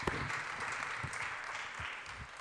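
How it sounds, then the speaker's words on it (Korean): Steady applause from a church youth congregation welcoming a team leader to the front at a Sunday service, a dense wash of clapping held at even loudness throughout with no voices on top. "박수 한번 부탁드립니다."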